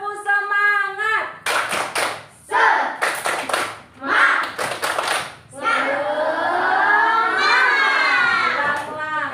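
A group claps in a quick patterned rhythm for a classroom cheer, bursts of claps alternating with children chanting together.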